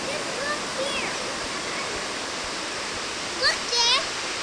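The Banfora waterfall in the African bush roars as a steady, broad wash of falling water throughout, with faint birdsong and brief children's voices over it.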